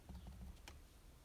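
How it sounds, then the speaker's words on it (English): Brisk typing on a computer keyboard, a quick patter of light clicks with one sharper tap near the middle, close and fairly quiet with no voices. "I'm just typing this kind of,"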